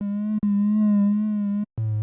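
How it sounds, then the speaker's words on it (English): A synthesizer lead with vibrato and light distortion plays two long buzzy sustained notes separated by short gaps, then drops to a lower note, loud and alone. "The key to this lead is adding this vibrato effect. And then a little bit of distortion."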